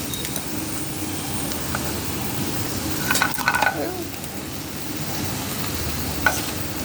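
Chopped tomatoes hit a hot pan for pav bhaji and fry with a constant close sizzle, a spatula stirring and briefly clattering against the pan midway, with one more tap toward the end.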